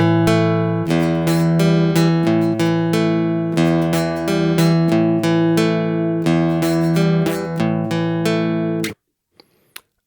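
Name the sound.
guitar played through MPC X with customized EQ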